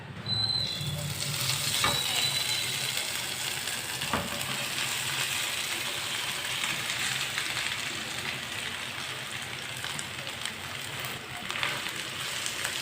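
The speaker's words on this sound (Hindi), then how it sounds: "अब इसमें आलू का मसाला डालेंगे।" Potato masala sizzles and fries steadily in a pan with roasted whole cumin and coriander seeds, with a constant crackling hiss. Occasional faint scrapes of stirring come through, and no one speaks.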